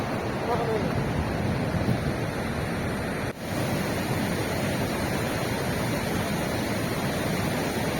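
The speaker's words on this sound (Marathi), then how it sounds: "बर्फाचं पाणी वितळून हा सगळा ओढा शॉक नदीकडे निघाला आहे" Snowmelt stream rushing toward the Shyok river near Turtuk village in Ladakh, a steady broadband roar of flowing water close by, continuous and loud throughout with only a brief dip, no talk.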